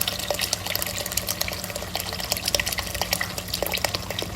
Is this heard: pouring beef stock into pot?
yes